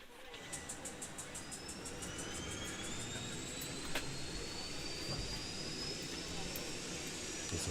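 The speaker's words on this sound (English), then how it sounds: "we'll go ahead and fire up the APU 1, 2, and 3" The APU of a simulated 737-300 Classic in X-Plane 11 spools up with a rising turbine whine over a steady rumbling roar, growing higher in pitch over several seconds.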